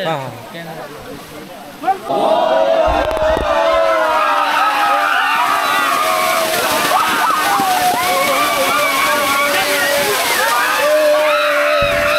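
People splash water in a river during a Ganesh idol immersion, with loud, continuous sloshing and splashing over lively crowd voices and shouting.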